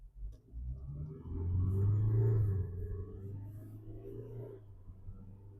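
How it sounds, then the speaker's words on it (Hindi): A Kia Seltos diesel with an automatic gearbox accelerates in Drive. Its low engine rumble swells through the middle, then settles to a steady drone, close and without talk. "Now let us talk about the acceleration on the Kia Seltos diesel with N automatic gearbox."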